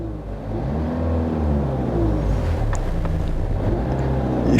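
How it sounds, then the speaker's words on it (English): A car engine rises in revs as the gas pedal is pressed, a steady loud drone with climbing harmonic tones and some wind-like rumble, no talk. "I'm gonna press the gas pedal"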